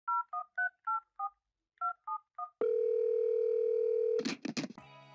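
A landline telephone is dialed with a quick series of touch-tone DTMF beeps in two bursts, followed by a steady, loud, continuous dial tone that gives way to brief rustling clatter at the end.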